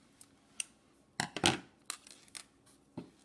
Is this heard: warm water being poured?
no